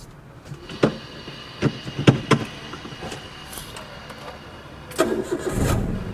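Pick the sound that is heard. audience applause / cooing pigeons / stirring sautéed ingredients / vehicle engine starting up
vehicle engine starting up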